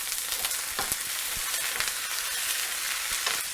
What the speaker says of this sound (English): When you fry the vegetables, you use the high heat. Add the leaves.